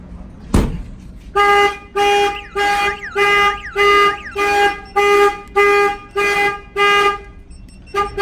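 A car alarm blares in a repeating pattern of loud, even electronic tones, about ten bursts with short gaps, close by, after a single sharp click.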